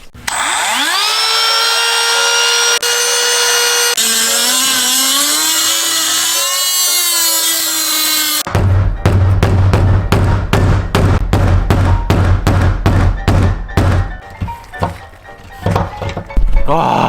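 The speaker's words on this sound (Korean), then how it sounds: "드레멜로 그 나사 머리를 좀 갈아낸 다음에 드라이버나 정 같은 걸 망치로 때려서 풀어야 될 것 같아요" Dremel rotary tool grinding a stuck screw head on a Volvo XC40 oil drain job, a long high whine that shifts pitch, then a rapid run of loud hammer blows on a chisel, steady and close.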